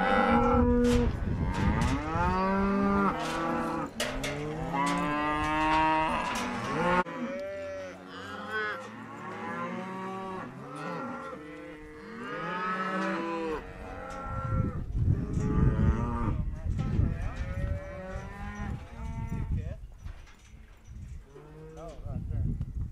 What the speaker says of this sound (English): Cows and calves are going back here.